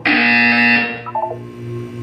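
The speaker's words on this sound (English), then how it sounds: "You will hear a buzzer. When you hear the buzzer, look down at the floor." A loud electronic buzzer from the video game Portal 2 sounds in one sustained, harmonically rich tone for nearly a second, then drops away into a few short blips and a low lingering hum.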